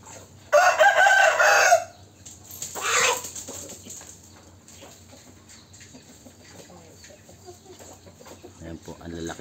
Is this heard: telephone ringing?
no